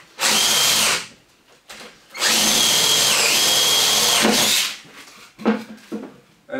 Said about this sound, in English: I have a nice piece of wood and we're just gonna drill some holes